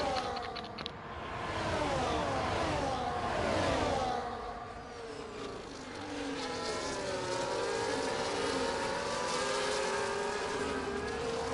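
A pack of Formula 1 race cars in a video game racing at Brazil, engines droning and whining together in overlapping pitch sweeps, steady and fairly loud without commentary.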